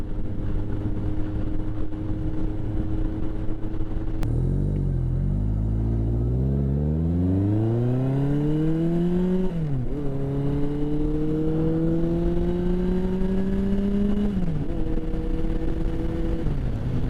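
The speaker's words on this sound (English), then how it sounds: "what you're hearing on the bike, it doesn't have the stock exhaust" A 1981 Yamaha XS1100 Midnight Special motorcycle with an aftermarket 4-into-1 exhaust idles with a deep, throaty rumble, then revs up and down several times, the exhaust note rising and falling loudly and close.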